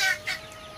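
Two quick, close clucks from a farmyard chicken: a sharp call at the start and a second softer one a moment later, with a quiet background and nobody talking.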